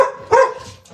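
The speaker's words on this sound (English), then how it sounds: "Holly likes to bark at our dogs." A dog gives one short, loud bark close by, with a faint whimpery tail after it, at neighbors walking past outside a home in the morning.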